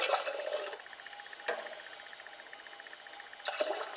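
Hot broth poured from a pot into a glass canning jar of leftover ham, a soft liquid splash and trickle with brief sharper clinks at the start, middle and end, moderately near with no talking.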